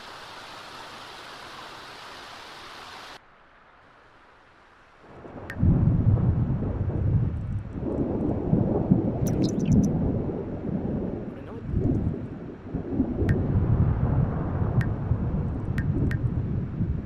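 Deep rumbling thunder with lightning rolls in after a short hiss in The Sims 4 video game, sustained and loud, with rain-like noise and a few sharp crackles over it.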